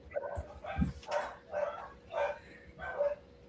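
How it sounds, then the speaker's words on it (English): Several dogs bark in a run of about six sharp, evenly spaced barks, moderately close and steady, with faint background noise and no talk. "Because the dogs are freaking out."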